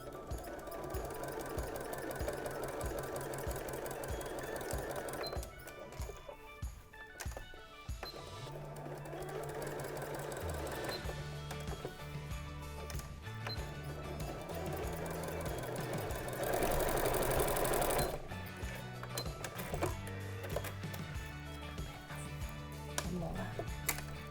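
A domestic sewing machine stitches straight lines through layered fabric and Bosal mouldable batting, a continuous close mechanical rattle that shifts pace and stops briefly between runs, with no voices.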